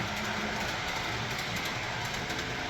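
A model train runs around a track inside a store, giving a faint, steady rolling rumble and hum that continues without a break and with no one talking.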